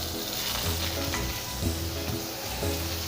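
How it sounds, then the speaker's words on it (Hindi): Butter melts and sizzles in a hot pan for a Mumbai-style masala pav, a continuous, close, fizzing crackle with faint clinks from the pan and no voices. "पैन गरम हो चुका है, अब इसके अंदर मक्खन डाल देते हैं।"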